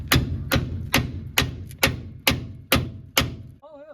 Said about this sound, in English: Well, let's just keep beating on it.